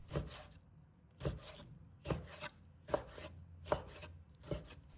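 A knife cuts thin, even slices of pork liver on a wooden board, six distinct chops spaced about a second apart, each a crisp thud with a short scrape, close and clear over a quiet background.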